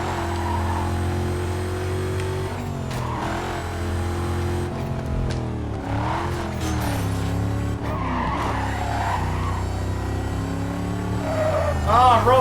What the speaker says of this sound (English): Oh, the sound of a supercharger.